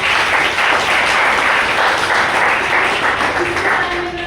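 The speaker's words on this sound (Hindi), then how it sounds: "मैं चाहूंगी एक बार जोरदार तालियां नीचे हमारी" Loud, dense applause from a large audience at a business plan show event in Panipat, a steady wash of many hands clapping that keeps going for several seconds with no talking over it.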